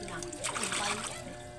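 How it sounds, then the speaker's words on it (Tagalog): Running water trickles and splashes as hands are washed under a tap, continuous and fairly faint, with a person's voice in the background. "Hugasan ko na ng kamay ko."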